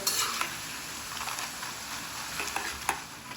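Fryums snack pieces fry in hot oil in a home kitchen, giving a soft steady sizzle with scattered light clinks and stirring taps from a utensil against the pan, with no talk.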